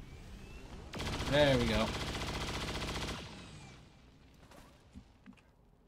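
Rapid automatic gunfire in the XCOM 2 video game, a dense burst of shots lasting about two seconds that then fades, followed by a few faint clicks and a brief spoken remark.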